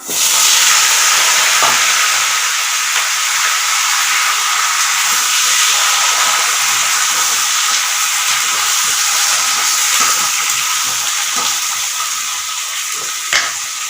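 Thinly sliced potatoes and drumstick stems fry in oil tempered with dried red chillies, making a loud, continuous hissing sizzle close up, with a few faint stirring clicks and no speech.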